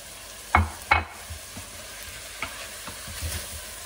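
Spices with black pepper, salt, sugar, paprika and turmeric stirred in a cooking pan: two sharp clanks of the spoon early on, then soft scrapes over a faint, steady sizzle.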